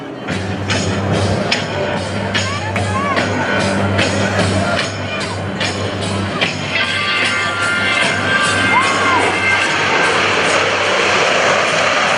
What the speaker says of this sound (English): From the right at 350 miles per hour, the Blue Angel Echelon Parade.